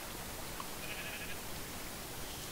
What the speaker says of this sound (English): Does she want to fight the sheep?